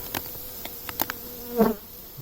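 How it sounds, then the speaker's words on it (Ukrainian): Bees buzz faintly and steadily in a slightly opened outdoor hive in winter, with a few soft clicks and a brief louder drone swelling near the end. "Тільки привідкрив і вже чую, що бджолки гудуть"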